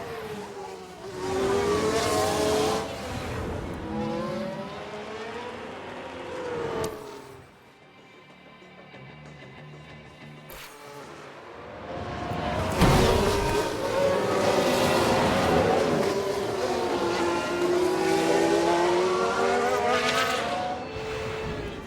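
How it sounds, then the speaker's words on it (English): Race cars in the F1 Manager 22 video game after a crash on the track, engines screaming loudly and rising and falling in pitch as they pass. A short quieter gap in the middle is followed by the roar building again. "We've just had a crash on the track."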